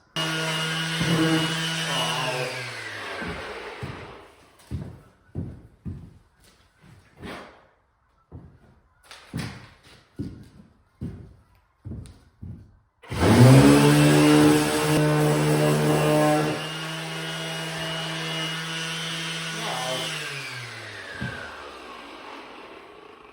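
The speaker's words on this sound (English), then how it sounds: "Well, I guess that means it's time to stop sanding" Power sander working a wooden storage shelf, a series of short bursts followed by a long loud continuous run that winds down and fades out.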